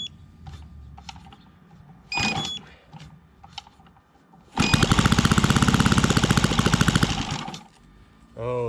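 A Fiala Valach VM70V1 70cc four-stroke model plane engine runs in a loud, close burst of rapid, even firing pulses lasting about three seconds, after a few brief cranking attempts and short sputters.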